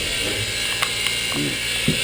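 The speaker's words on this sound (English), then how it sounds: "you pull back on this, close the valve again, and the pressure of the steam sucks fresh water up into the boiler" A lever and valve are worked in the cab of steam locomotive Engine 484, giving a few close metallic clicks and ratchet-like ticks over a steady hiss and hum.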